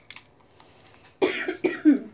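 A person gives a quick, close burst of two or three coughs after a faint earlier one, alone with no talking.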